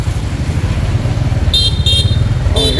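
A motorcycle engine rumbles steadily and close by on a Vietnamese road, low and continuous, while short horn toots sound over it near the end.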